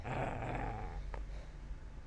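A dog growls low and continuously in Kingdom Come: Deliverance, a faint rumbling snarl under steady background noise with one brief sharper sound partway through.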